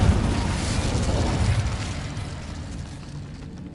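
Incendio fire spell cast in Hogwarts Legacy, a loud whooshing burst of flame that roars at once and slowly fades over a few seconds, with no voices.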